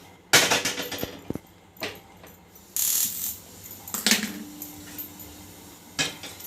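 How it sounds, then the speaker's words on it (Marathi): A metal cooking pot set down on a gas stove burner, heard as a few sharp close clanks and rattles with quiet pauses between, alone without talk. "पातेलं ठेवले"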